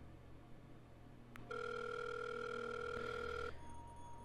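A phone ringing out unanswered in a Minecraft roleplay: a brief click, then a steady two-tone ring tone sustained for about two seconds alone before cutting off, with a fainter tone continuing after.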